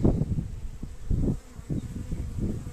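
A dense, low buzzing of many honeybees crowded at the screen of a closed hive swells and fades in short waves, close and continuous.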